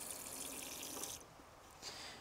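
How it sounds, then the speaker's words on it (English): Tap water runs into the small sink of a Volkswagen Grand California campervan in a steady close stream, cuts off after about a second, then briefly flows again. "On top of your fridge, you've got a fully operational sink, complete with running water."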